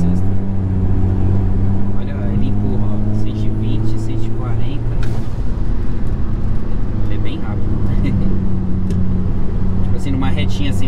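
An Audi A3 Stage 2 tuned to over 300 hp, accelerating hard in sixth gear, with a loud, steady engine drone and rising tone heard from inside the cabin, while someone talks over it.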